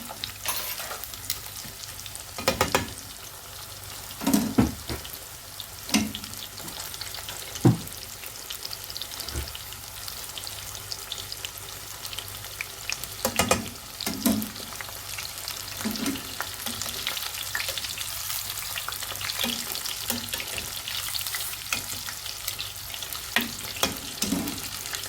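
Chicken breast fillets fry in hot oil with a steady, bright sizzle filling the whole stretch, broken by occasional sharper spatters and clinks of a utensil against the pan; no voices.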